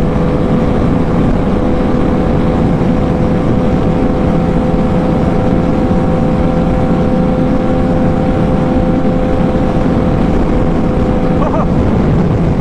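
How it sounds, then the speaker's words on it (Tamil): Strong wind roars and buffets the microphone while riding a Karizma XMR210 motorcycle at speed, a loud, constant rushing blast with engine drone underneath that never lets up. "என்னடா இவ்வளவு காத்து இருக்குது"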